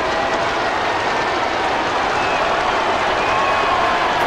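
A basketball arena crowd cheers loudly and steadily, a dense wall of roaring voices and noise that fills the space at an NBA game between the Lakers and the 76ers.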